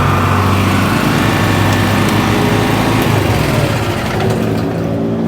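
A 3 kW dual fuel generator engine runs steadily and loudly up close, a constant droning hum with a buzzy high whine, with no pauses across the whole stretch.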